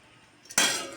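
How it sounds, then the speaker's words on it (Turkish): A metal lid clanks shut on a pot of simmering beans, one bright clink after a faint scrape, ringing briefly at close range. "Fasulyenin kapağını kapatıyorum."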